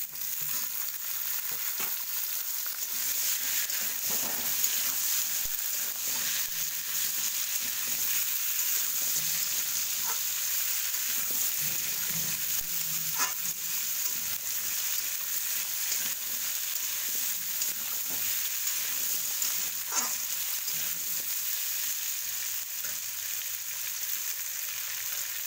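Potatoes and mixed vegetables with salt and turmeric frying in a pan, a continuous close hiss of sizzling oil broken by scattered soft clicks and scrapes of stirring throughout.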